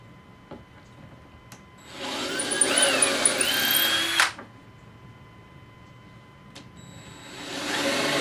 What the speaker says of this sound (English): start with the larger piece and drill a hole 5/8 of an inch in from each end